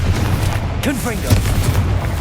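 A booming fire-spell explosion from Confringo in Hogwarts Legacy erupts amid a spider battle, joined by brief squealing creature cries and steady background game noise.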